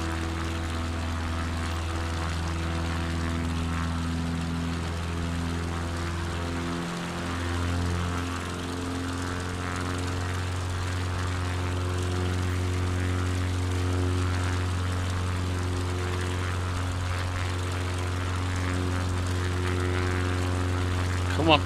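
Propeller plane engine in Microsoft Flight Simulator 2024, a slower aircraft than the Cessna, holding a steady loud drone with strong low harmonics for the whole stretch and only a brief dip midway.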